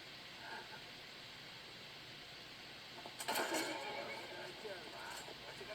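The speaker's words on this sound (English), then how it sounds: "Oh, there's my horse right there." In Skyrim, a horse gives a short whinny and snort partway through. It rises over a steady background hiss, with faint hoof sounds nearby.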